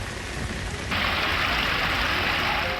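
Heavy rain during monsoon flooding in Rajasthan pours down as a dense, steady hiss that grows slightly fuller after the first second, loud and close, with no voices.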